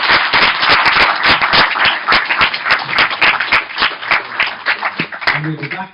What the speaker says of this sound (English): Please, can you give a warm round of applause for Peter Stewart.